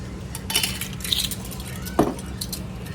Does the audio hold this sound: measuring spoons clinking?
yes